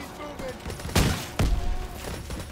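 Gunfire in the video game Call of Duty: WWII campaign on Veteran difficulty: two loud, sharp bursts stand out over a busy background of battle noise, with a few quieter shots between.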